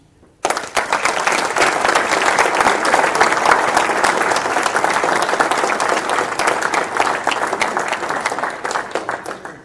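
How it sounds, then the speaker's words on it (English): A hall full of people at a ceremony gives veterans a loud, sustained round of applause, beginning abruptly after a brief quiet moment and carrying on as dense, close clapping for several seconds. "Applause."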